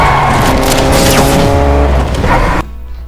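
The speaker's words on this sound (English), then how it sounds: "I get hit by a car." A car in the video game Fortnite strikes a player: a loud engine roar with tire squeal and skidding that runs for a couple of seconds, then cuts off sharply, leaving a quieter tail.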